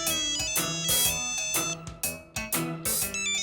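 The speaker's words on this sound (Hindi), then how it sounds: "बंधु का फोन है?" A mobile phone ringtone plays a melodic electronic tune in bursts of bright chiming notes, moderately loud and clear with no talking over it.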